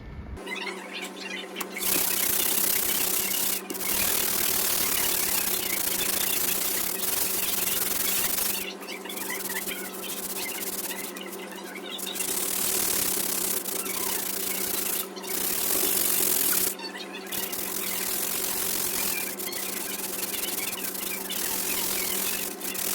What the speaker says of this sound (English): I'm gonna sand this down a little and then put a really thin top layer over it